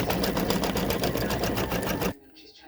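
An embroidery machine stitches a satin-stitch border on a turkey pendant, its needle hammering in a fast, even, loud rhythm for about two seconds before stopping abruptly, leaving quiet room tone.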